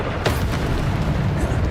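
Descendo spell impacts in Hogwarts Legacy land as a loud, booming slam amid continuous rumbling combat noise, with a sharp burst early on.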